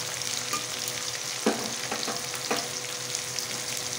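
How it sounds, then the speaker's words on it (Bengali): Mutton coated in masala, stirred and fried in a pot for dum biryani, gives a loud, constant sizzle with a few spoon scrapes and stirring knocks at a relaxed pace, close up. "ভালো করে মিশিয়ে কষিয়ে নেব।"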